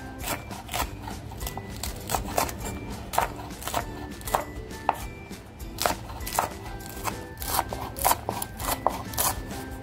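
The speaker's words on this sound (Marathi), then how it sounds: "मिरची छान कापून घेते" Green chillies being cut for sabudana khichdi: a steady run of crisp snips and clicks, close and moderately loud, continuing for about ten seconds over a faint background hum with no speech.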